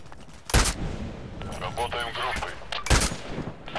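Two sharp gunshot bursts from the video game Contract Wars, a couple of seconds apart and up close, with a voice talking in the gap between them.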